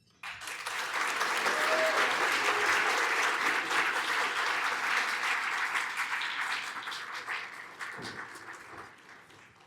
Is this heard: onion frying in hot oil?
no